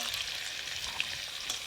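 Potatoes and ridge gourd fry in a pan, giving a steady, even sizzle and crackle with faint scattered pops throughout and no voices.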